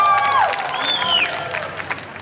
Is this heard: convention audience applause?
yes